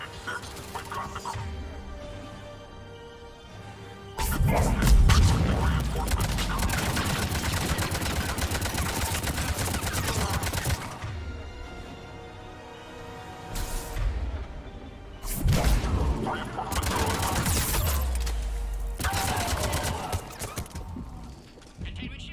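Sci-fi gunfire in the game Mass Effect 3, bursts of weapon fire and mechanical clatter that swell loudly in two long stretches, with quieter gaps and spoken radio dialogue between them.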